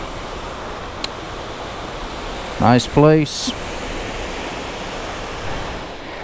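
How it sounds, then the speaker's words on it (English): A waterfall about 80 feet high pours into a stream with a steady, close, hissing roar that never lets up. Someone speaks briefly partway through. "This is a look at the falls."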